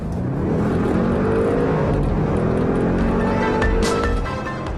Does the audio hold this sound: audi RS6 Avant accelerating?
yes